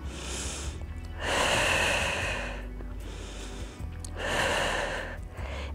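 Deep breathing during prenatal yoga, slow drawn-out inhales and exhales in a steady rhythm, close and clear, with two long breaths standing out above a soft background hum.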